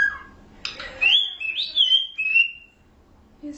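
A pet cockatiel gives a short chirp, then a run of rising and gliding whistles, close and clear against a quiet room.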